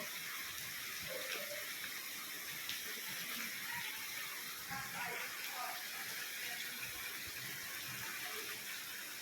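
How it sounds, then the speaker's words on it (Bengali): Waterfall water at Chobimura in Tripura pours in a steady, broadband rush that holds at an even level throughout, close and continuous, with faint voices occasionally surfacing beneath it. "এটি ঝর্ণার জল"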